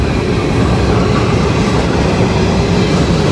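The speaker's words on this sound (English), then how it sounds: "Okay, the train is going through now." A freight grain train rolls past on the tracks at night with a loud, continuous rumble and rattle of cars and wheels, close by and unbroken.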